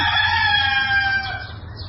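A rooster crows loudly and close by, one long drawn-out call that fades at the end.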